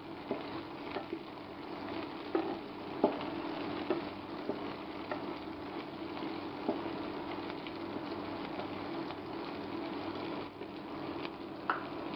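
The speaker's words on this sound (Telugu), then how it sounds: "ఇప్పుడు ఉల్లిపాయ ముక్కలు, పచ్చిమిర్చి ముక్కలు వేసుకోవాలి. అవి కొంచెం వేగనివ్వాలి." Onion and green chilli pieces frying in a pan give a steady, fairly quiet sizzling hiss with scattered small crackles and pops throughout.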